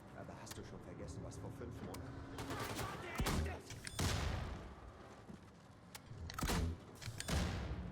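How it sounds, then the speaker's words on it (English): Gunfire from shooting Nazis in the first-person shooter Wolfenstein II: The New Colossus, several sharp bursts and scattered shots over constant game noise, with a player talking and exclaiming throughout. "Yeah, we're shooting Nazis."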